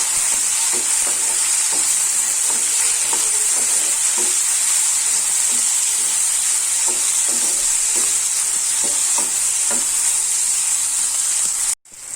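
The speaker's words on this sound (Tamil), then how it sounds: "தக்காளி சேர்த்துட்டு ஒரு 2 மினிட்ஸ் நல்லா வதக்கிக்கலாம்." Tomatoes sauté in a pan for garlic kulambu. A loud, steady sizzle fills the whole stretch, punctuated by regular scraping taps of stirring, then cuts off abruptly at the end.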